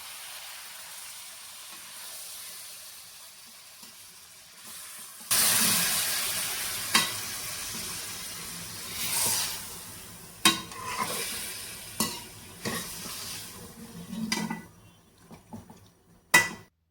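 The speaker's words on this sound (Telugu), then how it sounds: "ఇప్పుడు ఇందులో మ్యారినేట్ చేసిన చికెన్ని వేసుకొని ఒకసారి మిక్స్ చేసుకొని సిమ్లో పెట్టి" Marinated chicken stirred in a pot for dum biryani, giving a soft sizzling hiss with intermittent scraping and clinks of a utensil against the pot, starting after a quiet opening and continuing close by without speech.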